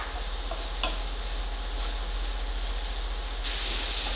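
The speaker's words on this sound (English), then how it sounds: "I'm going to cook that until the broccoli is tender." Broccoli with salt and thyme sizzling steadily in a pan, a constant soft hiss of frying with a low hum beneath and a few faint clicks.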